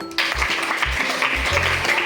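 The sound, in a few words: students clapping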